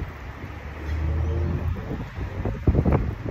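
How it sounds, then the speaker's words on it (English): Strong wind blows outdoors, buffeting the microphone with a low, steady rumble that swells and gusts throughout, with a few sharper knocks near the end and no talk. "it's windy out here at the moment"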